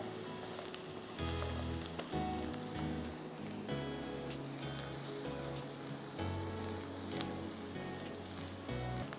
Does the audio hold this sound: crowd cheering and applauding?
no